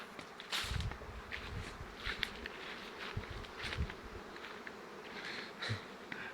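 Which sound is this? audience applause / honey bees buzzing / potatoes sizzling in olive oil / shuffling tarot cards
honey bees buzzing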